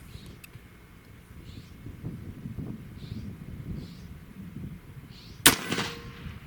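A single sharp, loud report from a ZEUS .72 caliber air rifle fired at a gopher outdoors, a sudden burst cutting through light wind and faint background noise.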